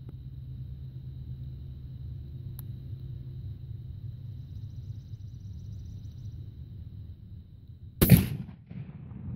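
A single loud shotgun blast from a Remington SP-10 with a Hastings extra full choke, fired outdoors after several seconds of low rumbling background, with a short decaying echo.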